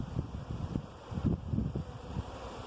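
Honey bees at an open hive in a community garden, a dense steady buzzing hum with soft pulsing swells, close by and continuous, with light wind rustle mixed in.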